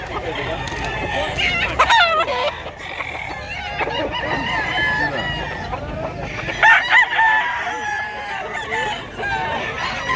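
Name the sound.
chickens and rooster crowing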